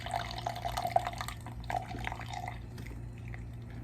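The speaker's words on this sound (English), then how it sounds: "let's drain the washing machine again." Water drains from a small tiny washing machine, a faint trickle broken by quick drips and gurgles that soften and fade toward the end.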